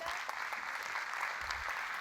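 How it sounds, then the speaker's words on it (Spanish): Warm applause from a school audience welcoming students of Liceo Leopoldo Lucero González of Ñongen, a steady, dense wash of clapping holding at an even level throughout, fairly distant and without voices. "Un caluroso aplauso, por favor."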